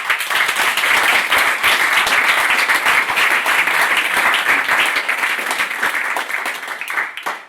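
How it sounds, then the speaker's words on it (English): An audience at a coding bootcamp demo day in Milan applauds, a dense, sustained round of clapping that holds steady for several seconds before tapering off at the end. "Really, really, a big applause to them, please."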